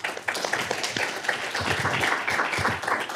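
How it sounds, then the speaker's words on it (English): A policy summit audience breaks into applause, a dense, continuous wash of many hands clapping at a fairly even level throughout. "I want to please join me in a round of applause for Ms. Kristin Strobel."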